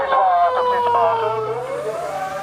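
A police car siren in Japan wails past on a street, loud and close, its pitch sliding as it goes by over a couple of seconds, with traffic noise beneath.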